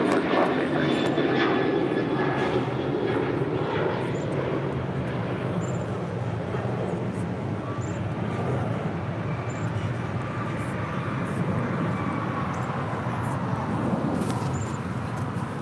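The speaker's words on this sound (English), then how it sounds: "Taking off there, that was Alaska Airlines flight 813 heading to Kahului in the 737-800." Alaska Airlines Boeing 737-800 taking off from runway 25R at LAX on a flight to Kahului, a loud, steady jet engine roar sustained throughout with broadband rumble, and faint radio chatter at moments.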